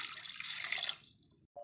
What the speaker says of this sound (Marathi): आता हे दुसऱ्या पाण्याने स्वच्छ धुवून घ्यायचं.